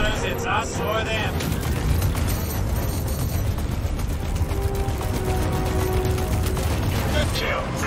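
Spaceship gunners open fire in the Squadron 42 video game, a dense, continuous barrage of mechanical rattling shots and blasts heard close and loud beneath a voice speaking.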